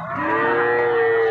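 A cow at a rural cattle market in Bengal, among heifers of Holstein Friesian and Jersey breeds, gives one long, loud, close moo that holds steady for over a second.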